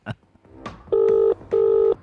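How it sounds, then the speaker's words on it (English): Two steady phone dialing tones sound one after another, each lasting under half a second, as a call is placed, after a few soft clicks and handling noises. "I'm just making a phone call, just calling someone."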